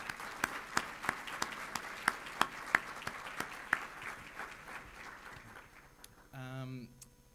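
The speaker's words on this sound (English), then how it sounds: "So I'd like to give them an applause for all the work that they do." Scattered applause from a small audience at an awards ceremony, a handful of sharp claps that thin out and fade, followed by a brief voice at the end.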